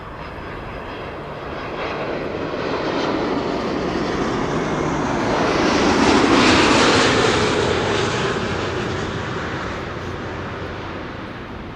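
A KLM airliner arriving at Amsterdam Schiphol Airport passes overhead, its jet engine roar swelling to a loud peak midway and then fading, with no talk.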